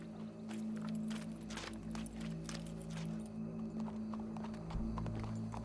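In the video game Red Dead Redemption 2, horse hooves clip-clop in a quick, steady rhythm at close range over a low background hum, with no talk.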